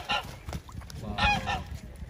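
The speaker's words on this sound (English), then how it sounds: "No, it's not duck, it's geese." Geese honk repeatedly nearby, several loud nasal calls overlapping in quick bursts, with soft background noise.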